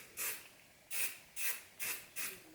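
Five short hissing sprays from an aerosol heat-protection hair spray can in quick succession, close and bright, with brief gaps between bursts.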